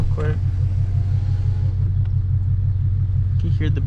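A 2011 Ford Mustang GT running E85 rumbles through its exhaust while driving, a deep, steady, close low-end burble with brief higher blips at the start and end.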